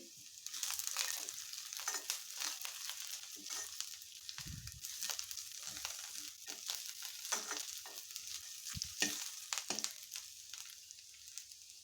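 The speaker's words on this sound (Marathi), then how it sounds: "इथे मी चार ते पाच काजू घेतले आहेत ते घालणार आहे हेही व्यवस्थित परतून घ्यायचे" Onion and cashews sauté in a pan with intermittent sizzling and crackling, broken up by frequent stirring clatters and scrapes, close and fairly quiet with no talking.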